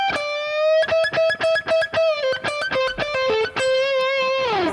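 Electric guitar lead with overdriven tone plays a run of picked notes and wide pentatonic string bends, sustained notes rising and falling, ending on a sliding bend that drops away.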